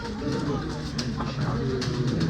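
Tumbler pigeons coo in low, soft, continuous murmurs at a crowded bird auction in Çorum, heard close under a steady background of people talking.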